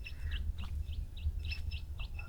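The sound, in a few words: birds calling at a Sri Lankan resort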